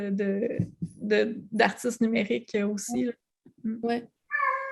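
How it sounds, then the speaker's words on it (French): A pet cat meows repeatedly while someone talks in French during a small art talk, its cries mixing in and out of her speech at close range. "c'est mon chat"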